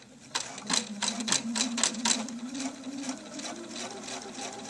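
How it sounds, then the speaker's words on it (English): A sewing machine runs a quarter-inch seam along a fabric birthday pennant, its needle chattering in a fast steady rhythm over a low motor hum, close and fairly loud. "I'm just going to sew along there. Do a 1/4 inch seam."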